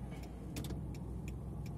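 Car pulling away during a driving lesson, a low steady engine hum heard from inside the cabin with a few faint clicks, quiet and continuous.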